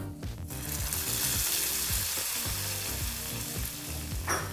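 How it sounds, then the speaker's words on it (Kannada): Hot oil tempering with spices hisses and crackles loudly as it is tipped into lentil saaru, a continuous close sizzle with stirring clatter underneath, no voices. "ಈಗ ಸಿದ್ಧವಾಗಿರ್ತಕ್ಕಂಥ ಒಗ್ಗರಣೆಯನ್ನು ಸಾರಿಗೆ ಹಾಕಿ ಮಿಕ್ಸ್ ಮಾಡ್ಕೊಳ್ಳೋಣ"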